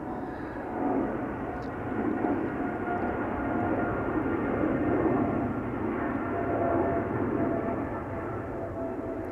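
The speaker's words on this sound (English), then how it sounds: "Emirates 777-300 just took off from center." Emirates Boeing 777-300 jet taking off from the centre runway at Amsterdam Schiphol, a steady broad roar of engines that holds at moderate distance for the whole stretch with no speech over it.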